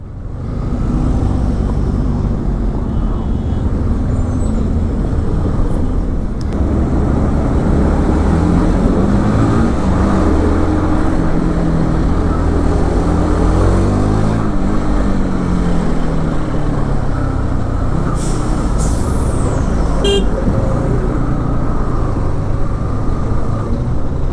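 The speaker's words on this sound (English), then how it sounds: "there's a traffic jam ahead" Road noise in a traffic jam with horns, heard from a moving motorcycle: a loud, steady engine and wind rumble throughout, with a brief high horn-like tone sounding near the end.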